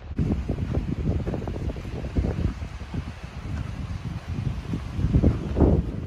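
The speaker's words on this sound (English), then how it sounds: "it is windy" Gusty wind on the Pacific Crest Trail buffets the microphone in low, uneven rumbling surges, rising and falling throughout with no voices.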